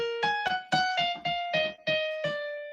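A piano plays the theme of Beethoven's Sonata Pathétique without its ornamental turn: about eight clear, separately struck notes in a steady rhythm, close and alone, the last one ringing on.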